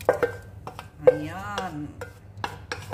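Cooked red lentils are stirred and sautéed in a pan, with soft scraping and a few light clinks of a utensil against the pan, close and quiet, while someone speaks briefly.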